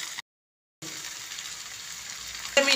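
Sardines frying in plenty of hot oil over high heat, a steady hiss of sizzling with a brief silent gap near the start and a louder crackle at the end.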